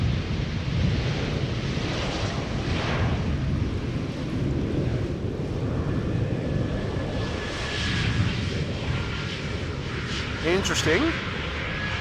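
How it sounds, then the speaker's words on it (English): An Eastern Airways aircraft operating as KLM Flight 972 from Humberside arrives at Schiphol Airport, a steady broad engine roar with wind buffeting filling the whole stretch, while a voice speaks briefly over it. "Eastern Airways. Flying as KLM Flight 972, arriving from Humberside, 41 minutes underway."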